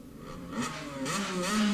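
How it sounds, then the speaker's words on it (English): Junior drag bike engine at a drag racing start line, revs climbing in short rising pulls over under two seconds, fairly close and alone. "Here the revs building."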